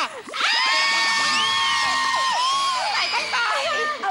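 A studio audience of many high voices screams and shrieks together for a talk show guest, loud and sustained, a dense excited wall of cheering that swells and dips.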